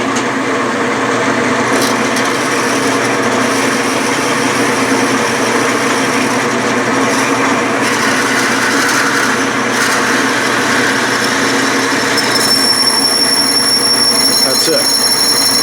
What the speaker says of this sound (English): Now I will counterbore the brass with a 3/8 drill